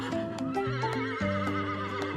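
A brown farm horse lets out a sustained, shaky neigh close by, with faint hoof clops ticking along beneath it throughout.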